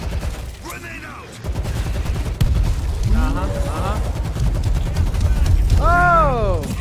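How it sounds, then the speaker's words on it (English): A grenade goes off amid bursts of gunfire in the zombie shooter World War Z, set in Moscow, with a dense, continuous barrage of shots and blasts, and voices shouting over the combat. "Grenade out!"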